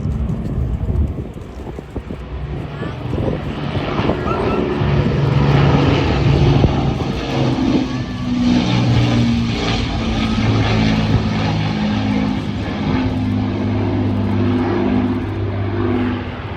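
A propeller aircraft, an airworthy former Cranfield test airframe, drones steadily overhead at an air show, its engine tone loud and sustained with some wind buffeting across the whole stretch.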